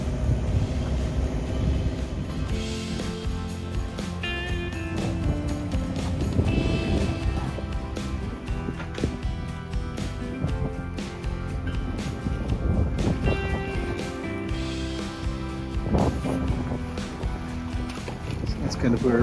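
A sailboat motoring under engine power near Ibiza after the wind dies. A steady low engine drone with hull and water noise carries on throughout, while someone talks over it.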